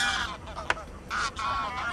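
Barnacle geese flying in formation over an estuary give a few loud, nasal honking calls in quick bursts, with one sharp click partway through and short gaps between the calls.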